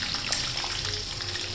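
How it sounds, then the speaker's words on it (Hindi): Chicken frying in oil over medium heat, a steady close crackling sizzle that runs unbroken and fairly loud with no voices. "दरमियानी आग पे इसको मैं फ्राई करूँगी"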